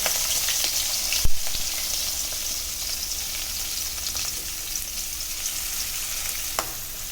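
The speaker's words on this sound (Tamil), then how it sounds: "கடுகு பொரிஞ்சதும் வெங்காயம் பச்சை மிளகா கருவேப்பிலை எல்லாத்தையும் ஒன்றா போட்டுருங்க" Onion, green chili and curry leaves go into hot oil with popped mustard seeds for a greens stir-fry, producing a constant crackling sizzle with a couple of sharp spatula knocks against the pan.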